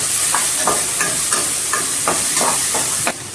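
Onions sautéing in a pan with salt added, a steady bright sizzle and hiss running throughout, broken by repeated soft stirring scrapes at an irregular rhythm, close and fairly loud, no voices.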